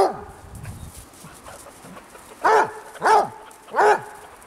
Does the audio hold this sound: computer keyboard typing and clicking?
no